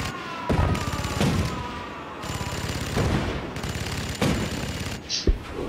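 Turret firing in the video game Spore, bursts of rapid shooting with sharp impacts recurring about once a second over a constant whirring background, no talk.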